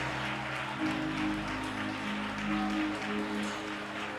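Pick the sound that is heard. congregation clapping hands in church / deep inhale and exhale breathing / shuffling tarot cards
congregation clapping hands in church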